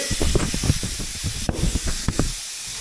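Sliced ham browning in a frying pan with leftover garlic gives a steady, close hiss of sizzling that runs throughout, with faint clicks and a few louder pops and spits.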